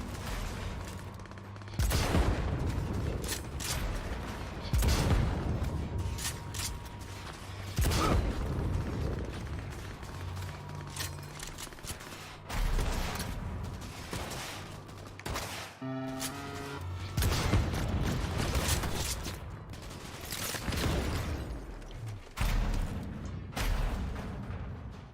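Pistol gunfire in Cyberpunk 2077 cracks out in loud, irregular bursts of shots amid mechanical clanks and action noise, with no talking.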